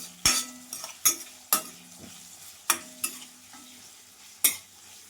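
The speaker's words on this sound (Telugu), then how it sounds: "ఇలా దోరగా వేగే వరకు కూడా తిప్పుకుందాం." Onions and green chillies frying in a pan for an eggplant curry are stirred with a utensil, giving about eight sharp scraping clinks spaced unevenly over a soft steady sizzle, close and moderately loud, with no talking.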